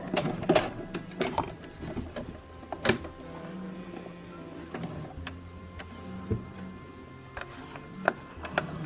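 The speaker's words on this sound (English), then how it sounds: "then we top stitch" A sewing machine top stitching a bra runs in short mechanical bursts with stops and clicks between them, fairly faint and close, with no talk.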